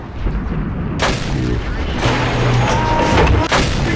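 Tank cannon fire from the E-25 tank destroyer in World of Tanks, a loud booming shot around the one-second mark followed by further blasts and rumbling battle noise, with a voice talking over the game action.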